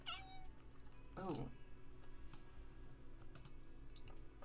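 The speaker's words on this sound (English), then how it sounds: "Layla's my cat. She likes sitting on the PC desk sometimes" A pet cat meows on a computer desk, a rising call at the start and a louder one near the middle, with faint keyboard clicks and a low room hum underneath.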